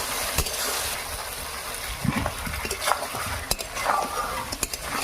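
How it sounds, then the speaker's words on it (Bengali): A pot of mutton and potato curry is stirred, with a constant sizzling hiss and a few scraping, clinking strokes of a spoon against the pot. "এবার এটাকে আমি নেড়ে দেবো।"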